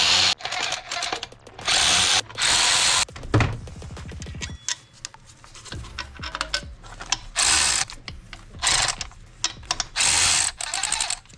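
A power tool working on the AC compressor bracket of a Subaru Outback, loud bursts of whirring and ratcheting that start and stop repeatedly, with clanks of metal parts between bursts.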